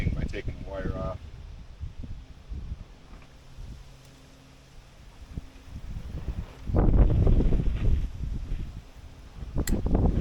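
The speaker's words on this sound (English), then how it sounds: "It is windy today." Gusty wind blows outdoors during work on a large yamadori eastern red cedar bonsai, low rumbling buffets against the microphone rising and falling, strongest in the later gust, with someone talking at times.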